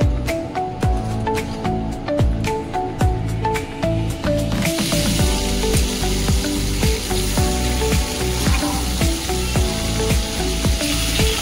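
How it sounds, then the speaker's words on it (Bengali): Fish frying in a pan crackles and spits loudly up close, with a dense run of sharp pops and bursts over a continuous sizzle, and no talking. "মাছ ভাজা হয়ে গেছে, আবার মাছটা ভাজতে গিয়ে আবার আজকে ভেঙে ছুটে গেছে।"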